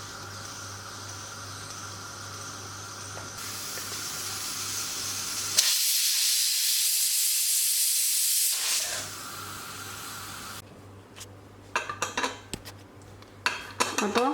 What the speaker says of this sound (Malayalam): അപ്പോൾ 1 വിസിൽ വന്നിട്ടുണ്ട്.